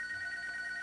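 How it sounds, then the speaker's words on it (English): A phone line rings on a radio talk show, a faint, steady electronic tone held through a brief moment with no talk. "The phone line is ringing."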